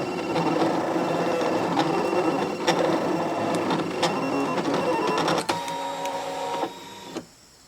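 Whirring Brother ScanNCut cutting machine cutting fabric, with rapid mechanical ticking and carriage movements, steady for several seconds before slowing and stopping near the end.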